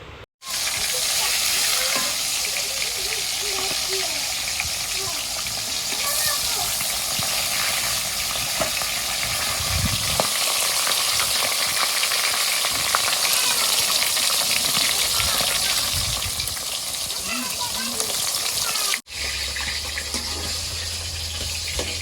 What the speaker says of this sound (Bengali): এখন আমি মাছটা খুব ভালোভাবে ভেজে নেব